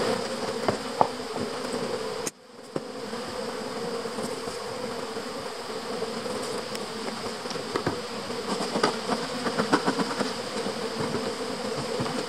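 Honey bees swarm around an opened beehive in autumn, a dense continuous buzzing close to the microphone with individual bees droning past.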